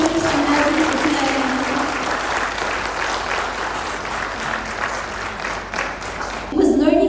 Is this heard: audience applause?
yes